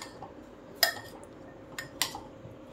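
A spoon clinks against a bowl while chole is mixed with chutney, giving three faint, sharp metallic taps spread over a quiet background.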